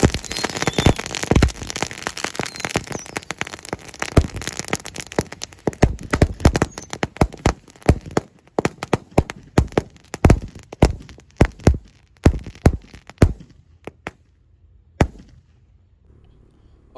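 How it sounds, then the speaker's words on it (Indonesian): Firecrackers set off underground for New Year crack in a dense, irregular run of sharp bangs, some loud and near and others duller, thinning out to scattered pops by the end. "jadi ini mercon terbanyak yang pernah kita nyalakan selama ini ya"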